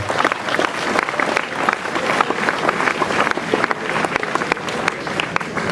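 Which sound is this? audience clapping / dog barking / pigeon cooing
audience clapping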